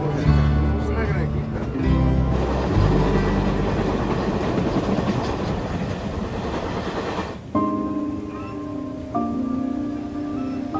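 A train on Mexico's Copper Canyon railway clatters steadily along the rails, a continuous rumbling ride with rhythmic clicks and changing mechanical tones, fairly loud and close.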